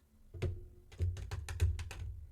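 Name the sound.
shuffling tarot cards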